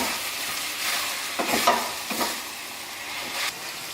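Meat frying in a pan for Brazilian pastel, a steady close sizzle broken by a few scraping stirs of a utensil.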